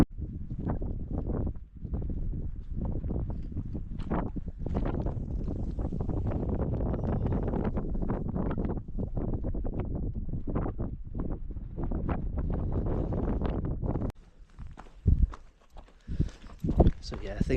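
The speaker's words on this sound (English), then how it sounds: "It was just non-stop wind, which has been on most of the high summits today." Strong, constant wind buffets the microphone on the high, exposed summit of Nethermost Pike in the Lake District fells, roaring loudly for most of the clip and then dropping to gusty bursts near the end, with a person talking over it.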